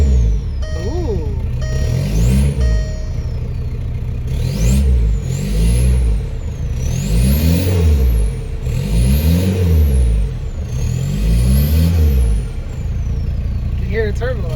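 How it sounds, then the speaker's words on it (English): 2005 Volkswagen Beetle TDI with a straight pipe exhaust and turbo, revving repeatedly in loud, rising and falling pulses with a whistling turbo whine sweeping over each rev. "You can hear the turbo a lot more"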